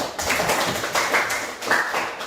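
A group of classmates applauding in a classroom as a team is introduced, dense steady clapping from many hands filling the whole moment, close and loud.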